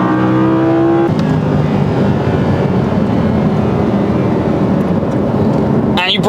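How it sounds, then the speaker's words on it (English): Audi R8 V10 Plus engine droning and rumbling steadily from inside the car while driving, loud and continuous, with a brief rising note at the start and talk underneath. "But that's where you get the engine"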